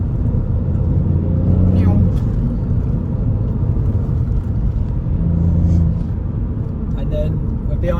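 Ford Fiesta ST driving on Isle of Man roads, its engine a steady low rumble held throughout at moderate loudness, with no hard acceleration evident and a faint swell or two as the car keeps to the speed limit.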